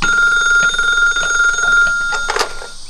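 A telephone bell rings loudly and close by with a steady trilling tone, joined briefly by a few faint knocks or movements before it stops.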